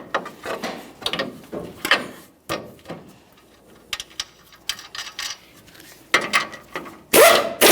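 A ratchet clicks in several quick bursts while snugging a tie rod end mounting nut on a 2015-2020 Ford F-150 steering knuckle, close and fairly loud, with brief pauses between pulls and a louder metallic burst at the end.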